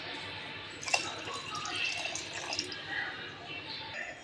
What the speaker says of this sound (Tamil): அதுக்கு நான் 3 டம்ளர் தண்ணி சேர்த்துக்கிறேன்